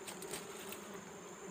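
Small honey bees buzz in a steady, dense drone during a honey hunt in a village in Jand tehsil, the swarm sound continuous and fairly close with no talk.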